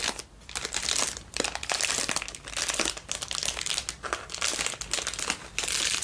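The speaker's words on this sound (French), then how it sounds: "les sons d'emballage me dérangent pas du tout" Plastic packaging crinkles close up in repeated bursts, with sharp crackles and short pauses as it is handled and squeezed.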